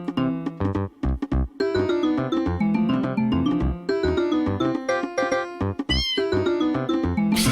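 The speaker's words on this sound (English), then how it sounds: "The cat meows are a nice touch." Cat meows produced by a free audio plugin, repeated many times over a tuned, song-like musical backing, each meow loud and close, strung together in a busy melodic pattern.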